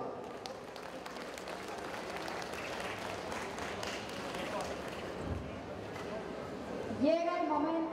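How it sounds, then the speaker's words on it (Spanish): Applause from an audience at a basketball final award ceremony in a Mixe community, a dense, steady patter of clapping heard at a distance, with an announcer speaking over it. "Que se escuchen fuertes los aplausos."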